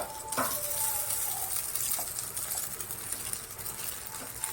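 Boiled vermicelli (semiya) gets a rinse under running water while lemon semiya pulihora is prepared, a faint, steady hiss of flowing water throughout with no voices.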